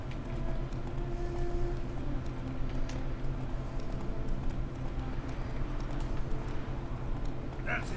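Roach the horse gallops steadily in The Witcher 3, hooves clip-clopping in a continuous rapid rhythm over a low game ambience, with talk mixed in.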